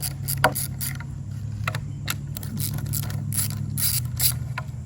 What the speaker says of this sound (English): it's a 12-inch, half-inch socket, and I'm just gonna slowly loosen it until we don't have a lot of force.